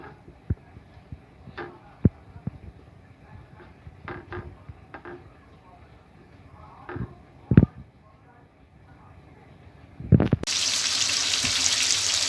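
Flour-coated pieces of liver frying in oil: faint scattered clicks and taps, then a sudden loud, steady sizzle bursts in near the end and continues.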